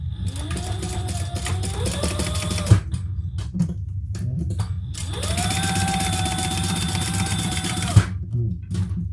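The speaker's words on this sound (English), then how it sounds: "We're going to baste across the top, 1/8 of an inch." A sewing machine bastes across the top of a crossbody bag in two long, loud whirring runs, pausing briefly between them with small clicks and handling noises, close up and without talk.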